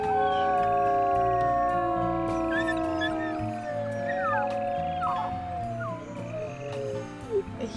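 A wolf pup in the video game Ironwolf howls in long, wavering tones that layer over other howls and a droning game soundscape. The sound is loud and sustained, then fades toward the end.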